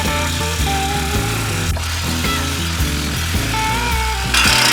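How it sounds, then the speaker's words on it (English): A Sawzall reciprocating saw, on its third blade, cuts through a stainless steel Y pipe from a truck exhaust. Its loud, continuous buzzing drone shifts in pitch in steps as the blade bites, with no talking. "I have destroyed 3 Sawzall blades, and the Y pipe is still kind of together"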